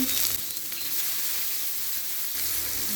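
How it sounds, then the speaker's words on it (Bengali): Cumin and fennel seeds with chopped onion sizzle steadily in about half a cup of hot oil in a pan, a loud continuous hiss close to the listener with no voices. "এখানে শুকনো মশলাটা ফোড়ন দিচ্ছি, জিরে মৌরি দিচ্ছি, 2টা পেঁয়াজ কুচি দিচ্ছি"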